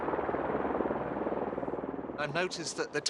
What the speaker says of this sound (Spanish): el helicóptero de Wilhelm tiene permiso para aterrizar